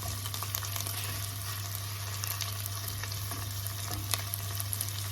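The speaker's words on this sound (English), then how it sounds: "Ackee and saltfish stir fry, guys." Ackee and saltfish stir-frying with peppers and onions in a pan, a steady close sizzle with faint scraping stirs and no talk.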